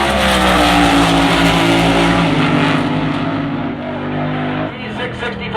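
Drag racing cars at Tucson Dragway, a Hemi and a supercharged big block Chevrolet, roaring loudly with stepped gear changes, under a commentator's voice.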